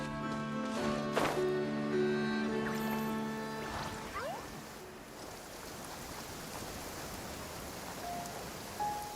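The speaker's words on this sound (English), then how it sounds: "Taking a stroll in the middle of a downpour certainly rouses the spirit." Steady rain falls in a video-game downpour as a character strolls outside, a dense even patter that follows some brief tonal game sounds at the start.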